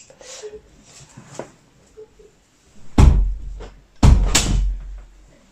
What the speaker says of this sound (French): Je crois que je vais fermer la porte